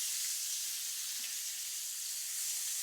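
Bacon frying in a pan while mac and cheese is being made, a steady, even sizzle and hiss that carries on without pause, with no talking over it.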